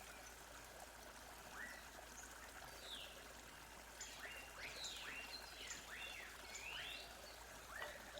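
Jungle waterfall rendered as a steady, fairly quiet rush of flowing water, with several birds chirping and trilling above it throughout; no voices.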